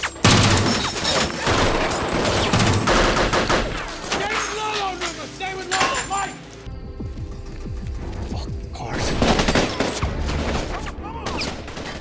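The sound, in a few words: gunfire in a shootout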